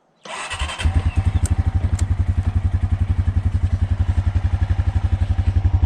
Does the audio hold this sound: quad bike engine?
yes